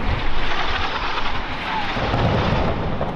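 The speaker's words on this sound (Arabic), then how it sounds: "هاي الطيارة تضرب" A warplane roars continuously during an airstrike in Gaza, a loud, rumbling aircraft drone that fills the whole stretch with a heavy low-frequency wash and no clear breaks.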